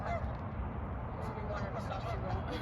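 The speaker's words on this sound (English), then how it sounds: "Those geese." Geese honk outdoors in a repeated, fairly steady chorus heard at moderate distance over background noise.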